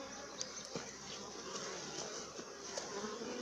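Honey bees buzz around a hive frame, a soft steady hum of many insects close by, with faint clicks and passing buzzes.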